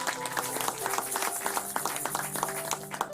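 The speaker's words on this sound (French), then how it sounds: "Donnez une main d'acclamation à Dieu." A church congregation claps along in a dense, steady patter of many hands, layered over sustained music or voices throughout.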